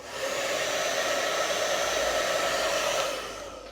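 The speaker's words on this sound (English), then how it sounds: "you can also use a hairdryer. So I'm going to go ahead and heat this up." A hair dryer blows steadily to warm Jamberry nail wraps, a loud, continuous whooshing hum that starts and stops cleanly with no talking.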